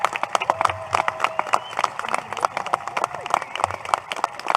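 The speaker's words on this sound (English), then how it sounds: "please join me in offering a resounding round of applause as demonstration of your support" Audience at the 2025 Muskego High School graduation ceremony applauding the graduating class, a moderate wash of clapping with scattered sharp claps and some crowd murmur throughout.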